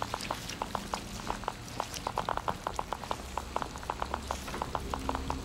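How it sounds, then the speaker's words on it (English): Blood dripping from a lamp in the Blair Witch video game: a steady, irregular patter of close drips over a low ambient rumble, with no voices. "Why is the lamp bleeding blood everywhere?"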